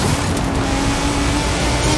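A light four-wheel-drive Pulsar car drives in Forza Horizon 5, its engine holding a loud, steady drone up close with no pauses and no talking.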